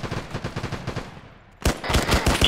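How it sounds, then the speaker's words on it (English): Automatic gunfire in the Arma 3 video game comes in rapid, evenly spaced bursts of shots. After a brief lull, a second, louder and denser volley follows at close range. "there's a guy in the building shooting you"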